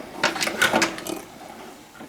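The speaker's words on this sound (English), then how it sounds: "Now we can pull the strainer out and pull the hose all the way up." A pull-down kitchen faucet hose, from a Kohler Malleco touchless faucet, rattles and scrapes as it is drawn up through the sink in a few quick, close mechanical bursts.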